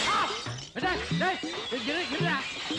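Glass smashes in a scene from the Tamil film Maharasan, a sharp crash followed by clinking pieces, with excited voices talking loudly over and around it.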